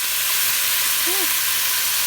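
Beef pieces browning in a pot with sprinkled flour give off a loud, steady, even sizzle and hiss, close up and continuous, with a faint tone of a voice or utensil briefly in the middle.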